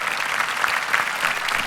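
Audience applause at a June birthday event, a brief burst of dense, steady clapping from a group of people heard close and clear.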